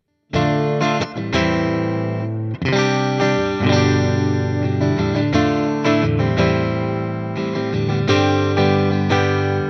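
An electric guitar with noiseless single-coil pickups on a Fender VG Stratocaster plays loud, sustained distorted chords with a clean, hum-free tone, strummed in a steady rhythm with brief pauses between phrases.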